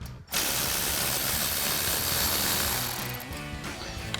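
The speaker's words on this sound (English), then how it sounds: "And we'll go ahead and remove our front ABS bracket right here," A ratchet clicks steadily while backing out a bolt on the front ABS bracket behind the brake rotor of a Silverado 1500 during a lift kit install, loud and close with a brief pause near the start.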